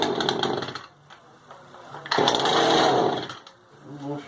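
A barn-find Poulan Pro chainsaw engine sputters and runs in uneven bursts, revving loudly for a second or so, dropping off, then surging again nearby, with a voice briefly over it.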